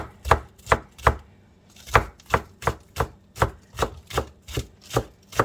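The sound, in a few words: knife chopping green onions (scallions) for dehydrating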